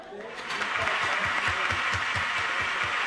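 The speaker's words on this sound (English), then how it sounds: "So, Marina, round of applause to you." Wedding guests applaud the bride, Marina, in a steady, sustained round of clapping that begins abruptly and holds at full strength throughout.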